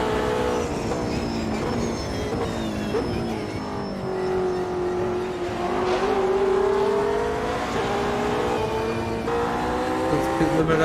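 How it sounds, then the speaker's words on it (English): Steady pit limiter drone from a GT3 race car in Automobilista 2 at Bathurst, a held engine note with layered harmonics and slight pitch swells, continuous and fairly loud, with another car's engine faintly underneath. "That's pit limiter."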